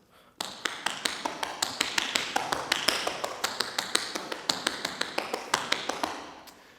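Tap dance cramp rolls in a repeating double, double, single pattern, a rapid string of sharp, bright metal taps in grouped bursts, close and steady for several seconds without any voices.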